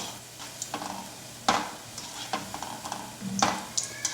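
Muthia dumplings fry in hot oil while a utensil stirs them, giving a steady close sizzle with several scraping, clattering stirs over about four seconds and no talk.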